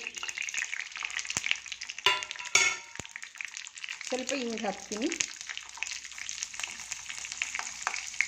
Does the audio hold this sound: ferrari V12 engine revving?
no